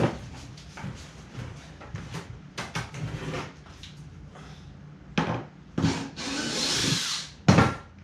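A power drill works at close range, removing a piano hinge from a 5x10 teardrop camper fitted with a folding queen bed, with several short whirring bursts, clunks and handling knocks in between.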